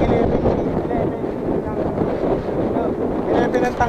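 Wind buffets the microphone during a motorcycle ride, a steady low roar that fills the whole stretch without pause.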